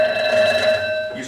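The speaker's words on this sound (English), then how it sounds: "You suppose you're going to answer that phone?" A telephone bell rings steadily and loudly in a quiet home, one sustained electric ring filling the moment before anyone answers.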